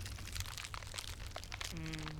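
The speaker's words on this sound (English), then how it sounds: "there's this crackling noise and she started hearing" Crackling, crunchy noise of skin shifting in a roleplay game, a dense run of dry crinkles and small cracks that fills the clip, with a faint steady hum toward the end.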